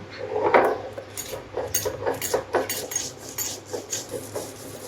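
Spices and salt ground by hand on a sil nora grinding stone, the stone rubbing and grating in quick repeated strokes, close and fairly loud, with no voices.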